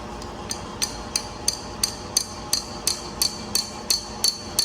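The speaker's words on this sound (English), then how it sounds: "You just hit this with a hammer and it'll come off." Steady metal hammer strikes knocking off a bearing on a Predator 212 engine ring out about twice a second, sharp and close, with a bright clanging edge and no talking.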